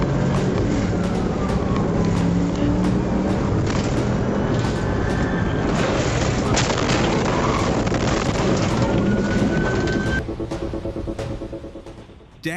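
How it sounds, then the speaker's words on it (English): Golf ball-sized hail pounds the coast of La Guaglia, Italy, in a dense, loud clatter of impacts over a rumbling roar, steady for about ten seconds before tapering off. "Golf ball-sized hail slammed the coast of La Guaglia, Italy, creating a scene that was both beautiful and alarming"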